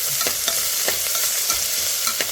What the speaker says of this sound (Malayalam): സ്പൂൺ ഇഞ്ചി വെളുത്തുള്ളി പേസ്റ്റ് അതുപോലെ തന്നെ അത് രണ്ട് പച്ചമുളക് രണ്ട് തണ്ട് കറിവേപ്പില ഇതും കൂടെ ഒന്ന് നമുക്ക് ഇളക്കാം